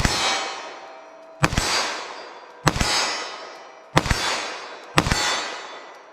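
Five sharp gunshots of Speer Gold Dot 9mm +P rounds are fired at a target 25 yards away. Each loud crack rings out and fades, spaced about a second apart, with no talking.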